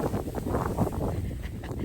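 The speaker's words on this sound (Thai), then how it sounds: "เนี่ยลมหนาว" Cold wind blows across a snowy landscape, a steady gusty buffeting against the microphone that stays moderately loud throughout.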